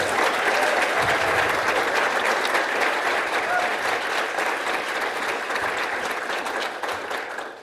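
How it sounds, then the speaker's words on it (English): Audience at a ceremony applauding a champion, a dense, loud burst of clapping from a large crowd that holds steady for several seconds and fades slightly at the end. "So how about a round of applause for our champion, Melissa?"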